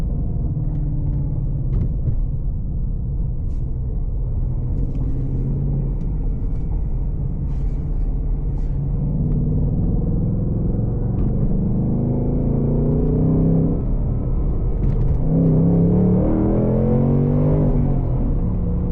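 Ford Mustang Dark Horse with a six-speed manual, accelerating in sport mode from inside the car, a deep continuous engine rumble that climbs in pitch as revs rise, loud and steady with no talk.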